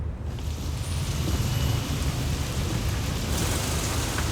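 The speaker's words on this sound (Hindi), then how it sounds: "अरे वाह, बारिश।" Heavy steady rain pours with a low rumble of thunder underneath, a dense unbroken wash of noise lasting the whole stretch with no voices.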